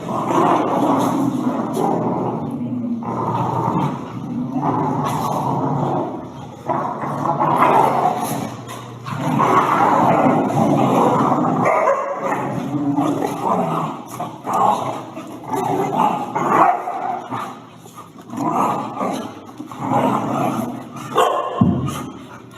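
Two dogs play and scuffle, a brown and black dog biting at the other's legs, with a long stretch of growls, whimpers and yips rising and falling close by, loud and continuous.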